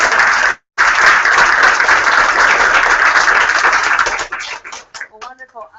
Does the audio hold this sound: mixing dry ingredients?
no